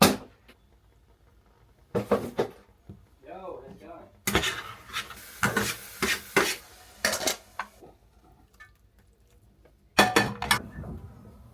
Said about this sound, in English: Back home and I am cooking some eggs